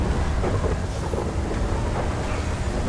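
Steady rain with heavy rolling thunder in the FiveM racing game fills the clip with a loud, continuous rumbling downpour and no talking.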